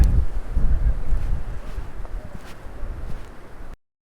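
Wind gusting over a valley near Ronda, Spain in winter, buffeting the microphone as a loud, rough, low rumble that slowly eases before cutting off, with no talk.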